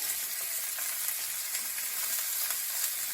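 A knob of butter sizzles in a hot pan beside pan-fried hake fillets, giving a steady, close, hissing crackle that holds evenly throughout with no voice.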